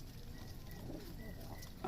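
Black Huma pigeons at a pigeon farm give soft, faint cooing calls over a quiet background hum.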